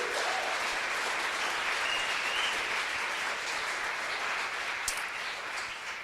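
Sustained applause fills a church service, a dense, even wash of many hands clapping at moderate volume for the full stretch, with no voices on top.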